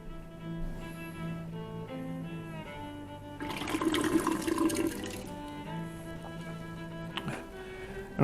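Liquid from a homebrew fermenter runs into a bucket during racking. It starts as a quiet trickle, then a stronger splashing gush of about a second and a half, then eases back to a soft flow.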